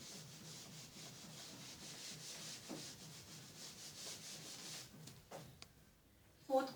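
A hand rubs back and forth over the upper part of a surface, a soft, fairly quiet scratchy swishing repeated in an even rhythm, followed by a few faint knocks and a short rustle at the end.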